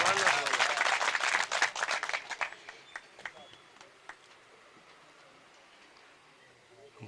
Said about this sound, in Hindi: जोरदार तालियां हो रही है दोस्तों